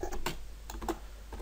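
Keys clack on a computer keyboard while code is entered in Excel's VBA editor, a few quick close taps in short bursts with brief pauses, quiet and without talk.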